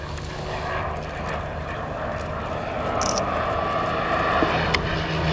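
A Hawker Sea Hurricane propeller aircraft drones steadily overhead at Shuttleworth, a loud continuous engine rumble that swells slightly toward the end.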